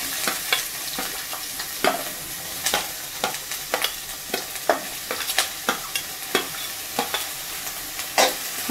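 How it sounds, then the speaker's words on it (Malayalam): Sliced onions sizzle in a pan for a green peas and potato masala while a spatula stirs them, giving a steady frying hiss broken by frequent sharp scrapes and clicks in an irregular rhythm, close and fairly loud, with no talking. "സവാള ഒന്ന് ഇച്ചിരി ഒന്ന് വഴന്ന് വരുന്നവരെ ഇളക്കി കൊടുക്കാം"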